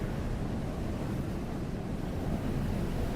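Steady roaring sandstorm wind on the desert planet Arrakis in Dune: Awakening, a dense, unbroken rush of low, gusty noise that stays loud and even throughout with no voices.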